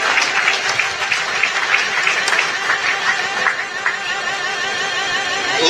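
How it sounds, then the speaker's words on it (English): A fight crowd applauds both fighters after the bout, dense clapping and cheering that is loud and sustained, with a few scattered voices in the mix. "Big round of applause to both fighters for a great contest."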